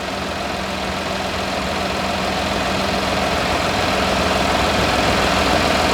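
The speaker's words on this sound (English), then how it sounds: "we'll go ahead and start it up" A Chevy Colorado / GMC Canyon V6 engine runs at a steady, even idle, close and moderately loud, with a faint whirring belt tone and no voices.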